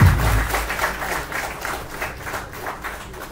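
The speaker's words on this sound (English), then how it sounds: "Huge round of applause for Mr. Pranjal, everyone." Audience applause at a hackathon grand finale in Bangalore: a dense, sustained wash of clapping from a large room, strongest at the start and then settling to an even level.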